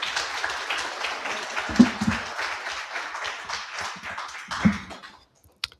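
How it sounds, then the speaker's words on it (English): An audience claps at a coding bootcamp demo day presentation evening, the applause sustained and patterned with individual claps, then thinning out and fading to near silence, with a last stray clap at the end. "On les applaudit."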